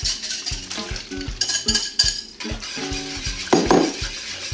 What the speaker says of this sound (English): But I just basically want to whisk all these in